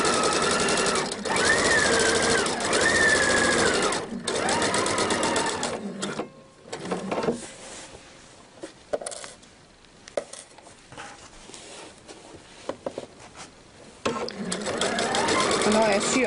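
A sewing machine stitches a fabric belt bag closed in steady, close, whirring runs with a pause in the middle, while someone talks over the work.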